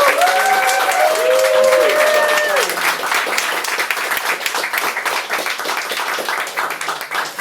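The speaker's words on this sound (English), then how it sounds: "I'm going to ask for a round of applause" A crowd at an open-mic event applauds steadily, dense clapping that swells at first and then gradually thins and fades.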